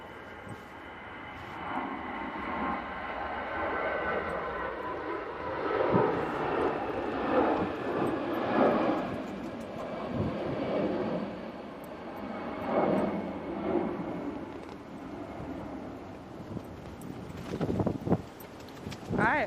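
A jet airliner bound for Malaga, a Boeing 737 MAX, flies at Manchester Airport during a storm, its broad engine roar swelling and fading over about twenty seconds with gusting wind mixed in.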